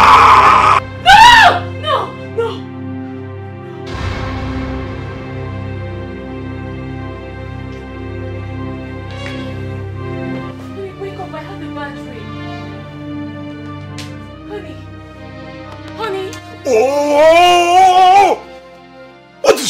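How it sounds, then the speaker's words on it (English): A woman screams at night inside a palace in a drama, with a sharp cry near the start and a loud wavering wail near the end over a low, sustained background. "Why must you scream down the whole palace by this time of the night?"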